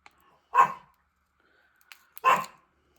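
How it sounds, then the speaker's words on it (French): Two sharp barks from a small dog indoors, about a second and a half apart, moderately close, with quiet between them and no talking. "Et il est capable d'aboyer comme ça non-stop."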